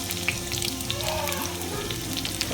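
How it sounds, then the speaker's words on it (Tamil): Chopped onions sizzle and crackle in hot coconut oil for a Kerala-style beef fry, a steady close frying hiss with no talking. "எண்ணெய் காஞ்ச உடனே நம்ம பெரிய வெங்காயத்தை போட்டுக்கிறோம்."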